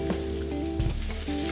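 Vegetables and carrot sizzle in a paella pan with a close, continuous crackle, broken by a couple of soft stirring knocks.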